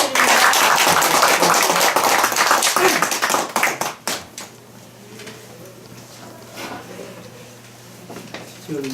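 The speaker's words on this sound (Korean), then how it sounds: "뜨거운 박수 부탁드립니다" Audience at a Korean business startup briefing applauds to welcome a speaker: loud, dense clapping for about four seconds, then tapering off into a quieter room with a few scattered claps and faint voices.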